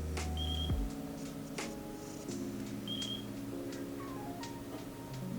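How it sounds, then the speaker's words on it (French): Short high beeps repeat at intervals from the receiver of a Happymodel Moblite 7 micro drone while it binds. They sound close, over a steady electronic hum, with no voices. "Donc ça va se mettre à biper."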